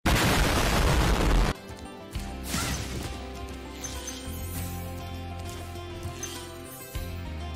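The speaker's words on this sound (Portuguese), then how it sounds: "A caixa de fogos de artifício. Uma boa ideia simplesmente tacar fogo nela, né?" A box of fireworks bursts in Spyro Reignited, one loud crashing blast followed by a lingering rumble and scattered crackles with game music underneath.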